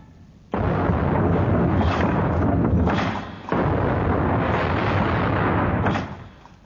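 A ship's cannon broadside fires in a radio drama of a naval battle: two long, loud rumbling booms, each a sustained roar that fades, with no talk over them.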